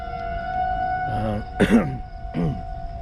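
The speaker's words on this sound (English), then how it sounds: "So you guys can hear the tornado sirens." A steady wailing tornado siren tone holds throughout at a distance during a tornado warning, with a few short vocal-like bursts and rustles layered over it.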